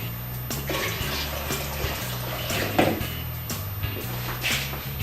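Leftover sterilant being poured from bottles back into a container during wine bottle sterilizing, a steady splashing, gurgling flow over a low hum, with occasional knocks of glass or plastic, close by and without speech.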